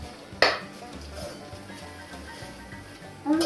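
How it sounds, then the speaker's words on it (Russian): A fork and dishes are washed at a kitchen sink, with a sharp clink of metal on crockery near the start and another at the end over a faint continuous running-water hiss. "Вилку теперь моем."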